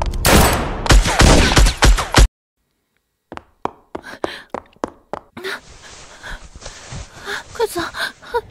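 Sniper fire cracks out in a dense, loud, close burst of shots. After a short silence come scattered sharper reports mixed with gasps and faint breathy voices.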